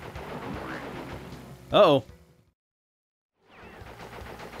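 A short burst of gunfire in Crash Bandicoot: Warped, loud and close, followed by a sudden drop to silence, with someone talking in the clip just before it.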